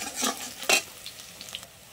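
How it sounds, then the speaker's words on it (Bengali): Onions fry in a cumin-seed tempering for a taro curry, sizzling close by while a utensil scrapes and stirs. The loudest strokes come early, then fade to lighter sizzling and scattered clicks. "জিরা ফোড়ন দিয়ে পেঁয়াজগুলো লাল লাল করে ভাজা করে নেব"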